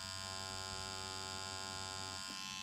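A powder brow tattoo machine running with its needle set too shallow for ombre shading gives a steady, close electric buzz with a bright, even hum and a short dip near the end, with no talking.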